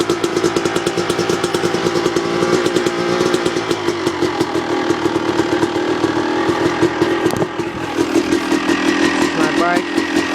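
A Yamaha YZ250 two-stroke dirt bike with a stock pipe runs close and loud on a cold start, its engine popping rapidly and steadily with small shifts in revs.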